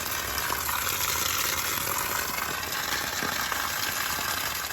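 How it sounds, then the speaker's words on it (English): Water rushing out of an opened pressure relief valve on an RV during winterizing, a steady loud hissing gush that runs unbroken without pause. "Come up here to your pressure relief valve and just open up a little bit and get that water draining out of there"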